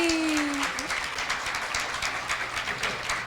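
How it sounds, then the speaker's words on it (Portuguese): A lecture-series audience gives a burst of loud clapping that fills the room and stays dense throughout before cutting off abruptly at the end, with no talking over it. "Então vamos dar palmas para o Pedro Ernesto Denardim."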